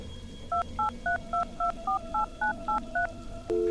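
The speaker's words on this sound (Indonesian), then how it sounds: "kan bisa pakai telepon ya untuk menghubungi resepsionis di bawah" A telephone keypad in a horror video game dials a receptionist: about ten short, even DTMF tones in a steady rhythm, then a longer tone begins at the end, clear and alone.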